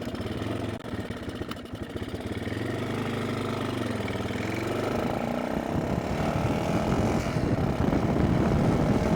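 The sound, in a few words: Yamaha XT350 motorcycle engine running roughly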